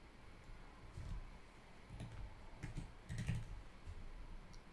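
Soft, irregular tapping of typing on a phone's on-screen keyboard, faint and close, scattered light taps over a hissy background.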